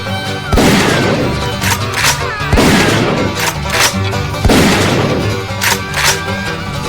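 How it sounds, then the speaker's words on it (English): Loud, repeated bursts of gunfire aimed at a cabin, coming in three heavy volleys a couple of seconds apart, each a crashing blast followed by rattling debris. "He sure shoots well for a man his age."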